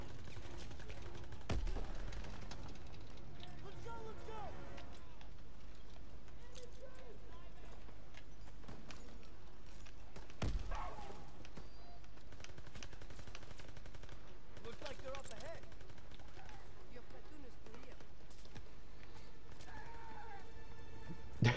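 A grease gun submachine gun fires in the World War II shooter Call of Duty WWII, in two short rapid bursts amid steady game background noise with voices present.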